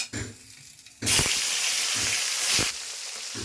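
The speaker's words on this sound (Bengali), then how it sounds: "মাছটা ভেজে নিব।" Hilsa fish drops into hot oil in a wok, setting off a loud, close burst of hissing sizzle that holds steady for a couple of seconds before easing to a softer fry.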